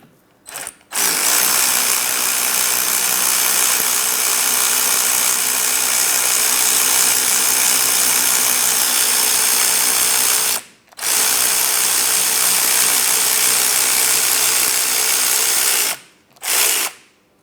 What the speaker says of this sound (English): Now this one is stuck in place. I'm going to be unscrewing it the rest of the way out.